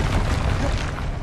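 The Incendio fire spell cast in the video game Hogwarts Legacy: a loud, dense roaring whoosh of flame that stays steady and fills the whole moment, with no other sound standing out.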